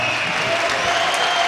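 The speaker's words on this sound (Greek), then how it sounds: "Είναι και αυτοί εδώ, ένα χειροκρότημα." A crowd applauds performers at a live show, a dense and continuous burst of clapping filling the short moment with no speech over it.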